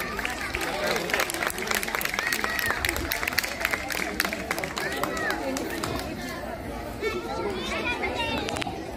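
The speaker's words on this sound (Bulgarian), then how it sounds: "Аплодисменти за група Перлички." An audience at a kindergarten's first-day-of-school welcome event applauds a group of young children, steady clapping blended with crowd chatter, children's voices and moving feet across the whole stretch.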